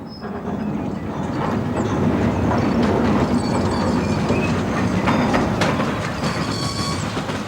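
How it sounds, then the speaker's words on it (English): A 1951-built locomotive, number 12, hauls a coal train on the Westoe Colliery Railway into Hilda Tunnel on a short electrified section, a loud steady rumble with rhythmic wheel clatter and faint squeals, close by and unbroken. "1951-built number 12 takes the train into Hilda Tunnel on the short electrified section less than a mile long"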